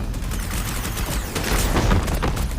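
Gunfire in the video game Wuthering Waves, a dense rapid burst of shots and booms crackling continuously and loudly, with no voices over it.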